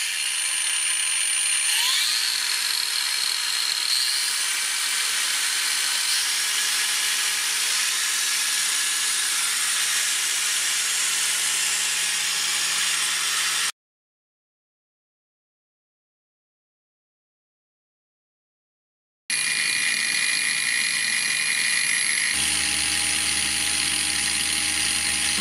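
A Parkside PWSAP 20-Li cordless brushless 125 mm angle grinder running continuously, a steady high-pitched whine close by that cuts out to silence and then starts again.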